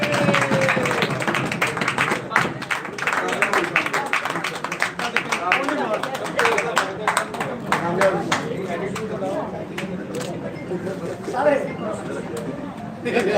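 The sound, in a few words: applause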